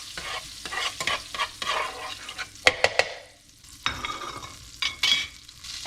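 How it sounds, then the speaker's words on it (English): Chicken pieces frying and browning in a pan over medium-high heat, a steady sizzle broken by repeated scraping and stirring strokes, close and moderately loud with no talk. "I have my heat on medium-high because I want to get some browning going on."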